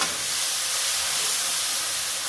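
Garlic paste hitting fried onions in a hot pan, giving a loud, continuous steamy sizzle and hiss that stays even from start to finish, close up with no speech.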